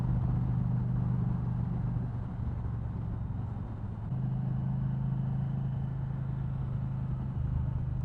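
An Indian Challenger motorcycle cruises steadily in sixth gear along a West Virginia highway, its engine a continuous low drone that stays loud and even throughout, with a brief dip in intensity midway.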